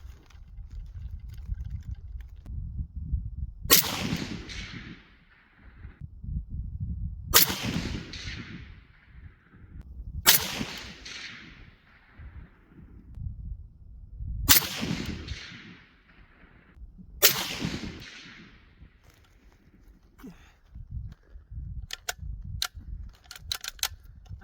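A Springfield Armory M1A National Match rifle fires 168 grain Sierra Federal Gold Medal Match rounds outdoors: five loud, sharp cracks spaced a few seconds apart, each with a ringing decay, with wind rumble between shots and a few small clicks after.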